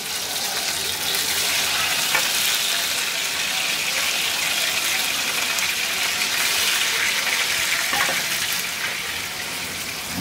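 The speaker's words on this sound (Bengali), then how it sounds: "মাছ অল্প দেখে আমি একটা ছোট কড়াইয়ে 2 টেবিল চামচ সরিষার তেল গরম করে নিয়েছি। ওর মধ্যে মাছগুলোকে আমি ভেজে নিব।" Fish fries in hot mustard oil in a small wok, a steady, dense sizzle that stays fairly loud and even throughout, with no voices.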